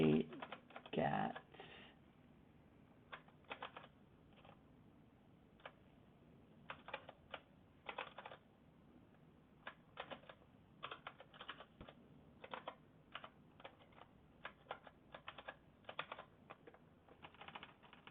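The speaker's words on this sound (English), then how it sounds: "I'm using this Ergo keyboard" Fingers tap out irregular bursts of typing on an ergonomic split keyboard, close and crisp clicks scattered through a quiet room, with a brief voice at the start.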